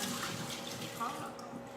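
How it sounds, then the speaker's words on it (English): Water is poured out of a container into a sink or basin, a brief, faint, steady splashing trickle heard close by. "now all I'm going to do is just pour out this water"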